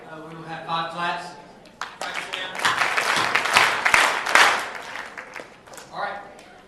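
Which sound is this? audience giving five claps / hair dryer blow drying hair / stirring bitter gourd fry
audience giving five claps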